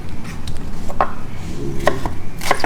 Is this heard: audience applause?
no